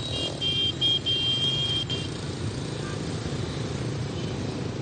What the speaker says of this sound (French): Il est dans le flot incessant de la circulation comme un poisson dans l'eau.